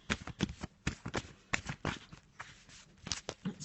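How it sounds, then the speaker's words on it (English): A black and white Faulkner Tarot deck is shuffled by hand, a quiet, close run of crisp riffling snaps and soft card slaps in an irregular rhythm. "Let's just have a little shuffle and put the card down for this Monday morning."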